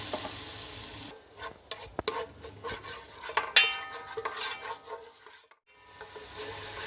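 Food sizzles and crackles in a hot pan, frying with garlic-ginger paste, with scraping and stirring strokes rising and falling, close by and with no talking.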